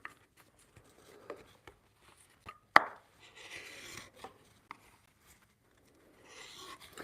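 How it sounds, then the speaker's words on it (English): A woodworking chisel is being sharpened in a home workshop. Quiet, intermittent scraping strokes and light taps come in short bursts, close and soft. "Right now I'm sharpening my tools"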